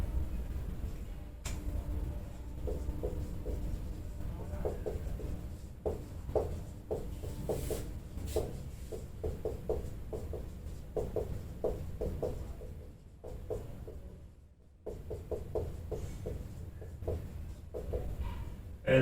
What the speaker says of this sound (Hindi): मैं लिख देता हूँ आपका नाम।